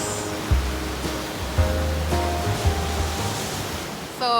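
Surf washes steadily onto Blowhole Beach in Haida Gwaii, British Columbia, a continuous close roar of breaking waves with a few soft thumps as swells land, and no voices.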